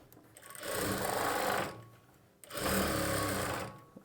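A sewing machine stitches lining fabric beside an invisible zipper in two steady, whirring runs of about a second each, separated by a short pause, close by and moderately loud with no voices.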